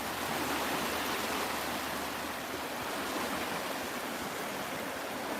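Seawater spills over the top of marina floodgates in a steady, loud rushing roar, a continuous broadband wash like a small waterfall, with no voices.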